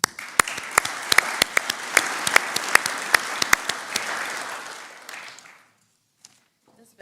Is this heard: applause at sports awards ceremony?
yes